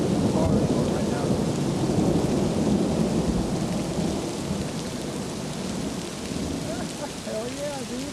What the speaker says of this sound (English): Hey, what a storm.